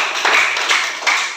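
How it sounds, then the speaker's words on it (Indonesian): Students clapping in a classroom during a lesson, a short burst of quick, bright hand claps from a small group, close and fairly loud, in brief surging waves. "tepuk tangan untuk Azza dan Sauki."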